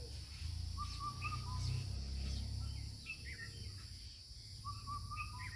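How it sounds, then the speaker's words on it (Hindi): An Asian koel calls repeatedly in a rural Indian village courtyard in summer, clear rising whistled notes coming in short phrases over a low background hum and faint insect buzz. "कोयल की आवाज़ देखिए, कोयल क्या बोल रही है।"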